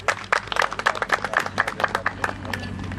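Applause at a Macedonian shepherd dog (Karaman) show, a dense patter of many hands clapping for about three seconds, close and fairly loud, settling into a steady rattle toward the end.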